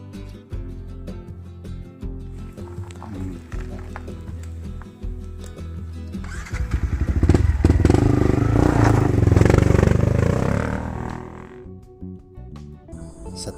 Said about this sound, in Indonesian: Kebetulan di pos 7 ini ada petani lokal bawa motor Yamaha WR.